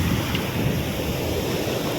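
Waves wash steadily onto an empty beach shore, a continuous broadband surf roar with wind noise on the microphone, no voices present.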